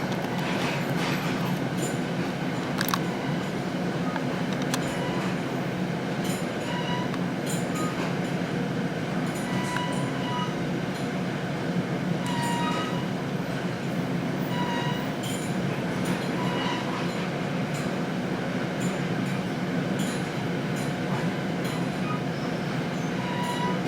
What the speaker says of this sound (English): We're waiting for a train to pass.